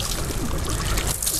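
Water is poured to rinse motorcycle wheel spokes and rims, a continuous splashing gush up close that runs steadily and then briefly thins out.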